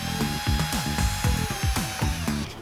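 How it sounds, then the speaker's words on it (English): A power drill bores screw holes into the stereo trim panel of a 2019 Honda Accord, giving a rapid string of short, whining bursts that start and stop in an uneven rhythm. The drill is close and loud, with no talking. "Put the tape on here so that I have a guide for where I'm going to drill my holes to screw this in."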